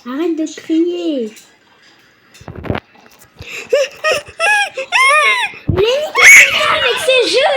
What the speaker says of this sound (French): Mais Maman, tes cris faisaient mal aux oreilles.